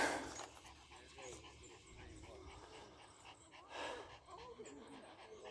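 A hot dog pants outdoors at a campsite and hiking spot on Stone Mountain, North Carolina: soft, quick rhythmic breaths, close but faint, with some whimpering and background voices.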